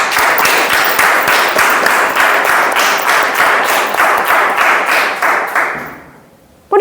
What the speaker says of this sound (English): let's give it up a great round of applause for all those incredible women in our life